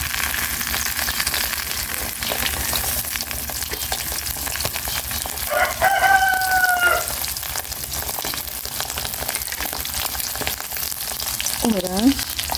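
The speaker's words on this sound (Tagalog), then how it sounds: "Prito naman po ako ng puyo." Milkfish fries in a pan, a loud, continuous sizzle and crackle heard close up, with a couple of brief tonal chirps from the background rising over it.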